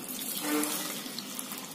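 Tap water running steadily into a vessel in a village kitchen while collecting water for rasam, a continuous close hiss and splash with no talking.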